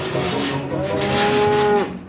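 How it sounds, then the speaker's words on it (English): A single loud, close moo from cattle on a hill farm by a motorway in the Pennines, a drawn-out bellow rising and holding for nearly two seconds. "they're a bit wild, the cattle up here"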